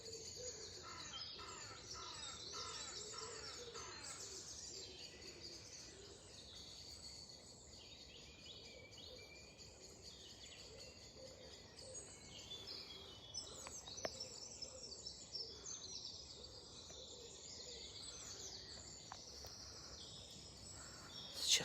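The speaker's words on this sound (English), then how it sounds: "Sometimes it sounds like all the birds are singing." Birds sing in a green park at Marbury Park in Northwich, several chirping and whistling calls overlapping at a moderate distance, with faint insect-like buzzing beneath and no talking.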